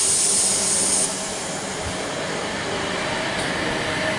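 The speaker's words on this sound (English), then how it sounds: "H20 is now departing platform number 2, Port Campbell service." A passenger train pulls away from a station platform on a New South Wales line, a low rumbling roll with a high whine at the start, steady and moderately loud, with no voices.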